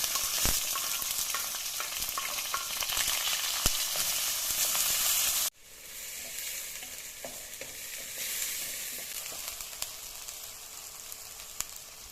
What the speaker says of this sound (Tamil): இப்போ வெங்காயத்தை போடுறேன் வெங்காயம் பச்சை மிளகாய் ரெண்டையும் போட்டுருக்கேன்